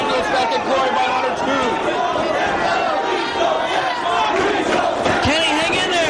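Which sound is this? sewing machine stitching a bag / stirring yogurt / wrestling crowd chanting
wrestling crowd chanting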